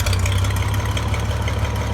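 A Farmall 560 tractor engine idles close by with a steady, low, throbbing rumble that stays unbroken throughout.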